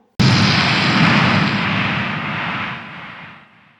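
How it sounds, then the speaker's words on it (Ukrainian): A sudden loud explosion in a Chernobyl TV drama, bursting in abruptly and then rumbling on as a broad roar that slowly fades away, with no talk over it. "Та то вибух."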